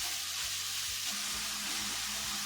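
Ground beef sizzling in a pan while a spatula breaks it apart, a steady bright frying hiss with soft scraping and stirring knocks underneath, close and without talk.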